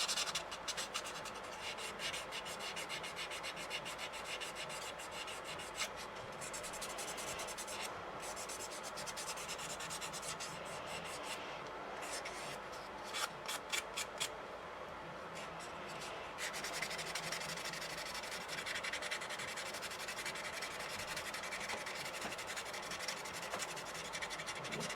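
Small-scale sanding of a plastic SU-152 scale model part with a Tamiya sanding sponge, a steady soft rubbing and scratching texture running throughout with brief irregular strokes, close and fairly quiet, no voices.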